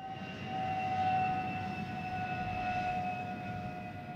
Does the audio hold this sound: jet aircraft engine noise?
yes